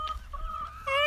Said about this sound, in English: There's our own chickens.